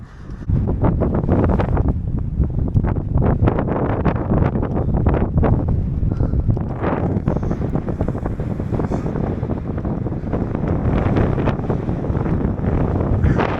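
Strong headwind roaring steadily across the microphone while cycling a hilly route in Greece, a loud continuous rush with no talk.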